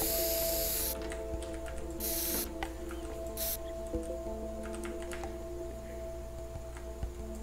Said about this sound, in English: Spray can it.